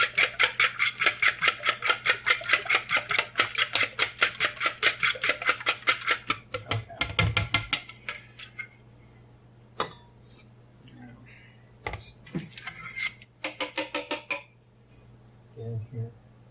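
A fork whisks keto bun ingredients in a bowl, a fast steady run of bright metallic clinks against the bowl that slows into scattered scrapes and taps. A voice speaks quietly in places.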